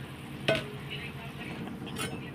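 Pieces of fried fish drop into a simmering fish curry with a soft splash near the start, followed by faint stirring and low bubbling in the pot.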